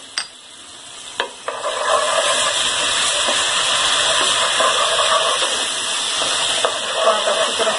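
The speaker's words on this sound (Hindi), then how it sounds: "हमने ये 2 टेबलस्पून डाल दी है लहसुन अदरक का पेस्ट" Steady crackling sizzle of garlic-ginger paste frying in a hot pan for aloo gosht, continuous and close, with a few sharp clicks of a utensil near the start.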